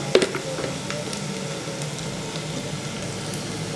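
Onions fry in hot oil in a pan, giving a steady, fairly quiet sizzle with a brief clatter at the start and faint crackles throughout.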